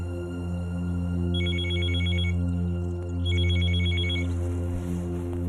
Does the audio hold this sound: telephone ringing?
yes